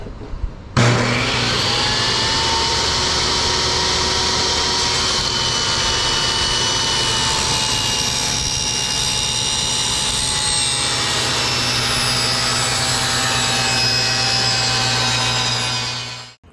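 A table saw with its fence set snug rips a wood strip for canoe gunwales, holding a loud, steady whine for about fifteen seconds before it winds down. No one speaks.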